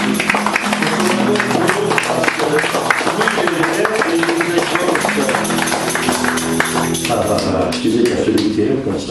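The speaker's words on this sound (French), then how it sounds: "Est-ce qu'on peut acclamer et applaudir Jésus?" A church congregation cheers and claps in praise of Jesus. The dense, rhythmic applause and voices go on loudly throughout and fade a little near the end.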